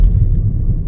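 Car engine rumbling low and steady as the car pulls forward slowly during a driving test, a close continuous drone with no voices over it.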